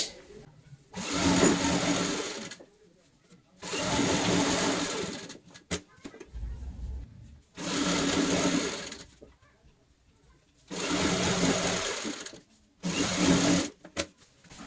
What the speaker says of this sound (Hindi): जो हमारी सिलाई है 12 बाई 12 वाली उसके ऊपर हमें यहाँ पे सिलाई लगानी है